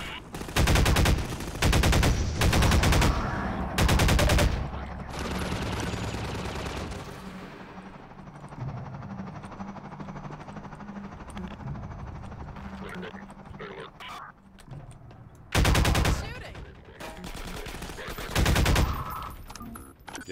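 Loud bursts of automatic gunfire in a survival shooter game, rapid clusters of shots up front and again near the end, with quieter rumbling action and voices between the volleys.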